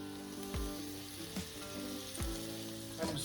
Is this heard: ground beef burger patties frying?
yes